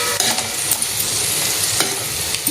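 Stuffed brinjals fry in a pan with a continuous oily sizzle while they are turned one by one. Soft scraping and tapping sounds come through close up, and nobody speaks.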